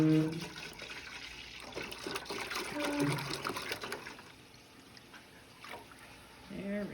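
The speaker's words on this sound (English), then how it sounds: "So we're using 1/2 gallon of whole milk. We're just going to pour it straight on in there." Half a gallon of whole milk poured straight into a pot for cheesemaking, a steady liquid trickle and splash that fades out midway, with brief voices nearby.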